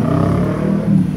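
A 5K engine with a transmission support problem runs close by, a loud, steady low rumble with a faint uneven vibration throughout the brief moment.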